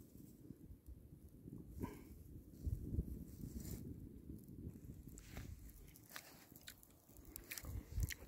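Crunchy chewing of fresh pine nuts pulled from a burned cone in the Chilcotin mountains, steady close mouth sounds with irregular crunches over a soft outdoor background.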